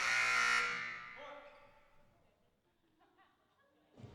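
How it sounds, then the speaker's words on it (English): A loud, harsh electronic buzzer blares for about a second at a women's volleyball match, then rings out and fades, leaving quiet crowd murmur and faint voices. "we got a hard buzzer there"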